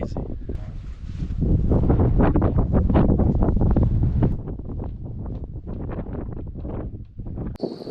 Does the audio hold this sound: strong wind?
yes